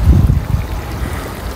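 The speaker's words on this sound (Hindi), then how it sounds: "बिल्कुल करीब से दरिया गुजर रहा है और यहाँ से कहीं से निकलता है ये पानी" Hot spring water flows out near a river in Tata Pani, Azad Kashmir, as a steady rushing wash with low rumbling gusts at the start, heard alone without voices.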